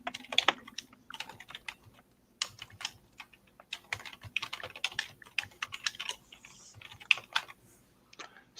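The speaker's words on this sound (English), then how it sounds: "Someone's banging away on the keyboard." Fast, irregular clatter of keys being hammered on a computer keyboard, close and crisp, in bursts with brief pauses, no talk.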